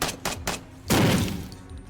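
Gunfire in the tactical game Door Kickers 2: a few quick rapid bursts, then a heavier booming shot, moderately distant.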